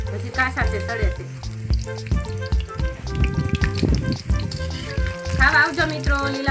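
Green chili bhajiya fritters crackle and sizzle steadily in hot frying oil, a close, continuous bubbling hiss with occasional stirring clinks.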